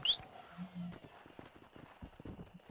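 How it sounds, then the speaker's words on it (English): A horse in the Red Dead Redemption video game, with faint clip-clop hoofbeats and a brief whinny at the start, quiet and somewhat distant under low game ambience. "Entonces tengo un nuevo caballo"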